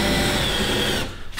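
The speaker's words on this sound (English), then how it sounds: "What size drill bit is this? This is going to be a little pilot hole" A power drill with a small bit boring a pilot hole through a van's sheet-metal skin, a loud close whirring grind for about a second before it cuts off.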